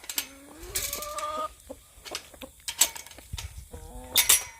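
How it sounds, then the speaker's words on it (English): Farm chickens cluck and squawk in short overlapping bursts close by, with several birds calling at once in an irregular rhythm during feeding chores at a goat farm. "Doing the chickens, gotta feed them, maybe water."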